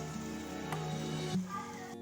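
Rice appam batter sizzles in hot oil in a kadai over a medium flame, a steady, soft frying crackle with faint splattering, heard close with no talking.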